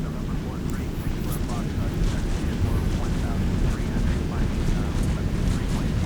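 Boeing 737-800 engines at takeoff power in a flight simulator game roar as a steady, loud, broad rumble that holds throughout the roll.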